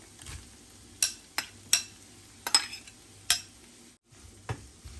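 Spoon stirring samosa filling of fried potatoes mixed with tahini in a pan, several separate scraping strokes at an irregular pace, close and moderately loud, no voices.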